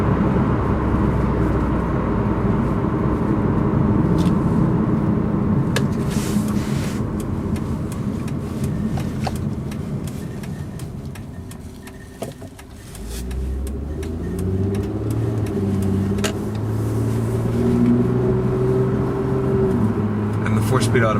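A 2003 Mitsubishi Eclipse V6 with a four-speed automatic drives along, its road and engine noise steady and loud, easing off midway then climbing again in smooth rising tones, with someone talking over it.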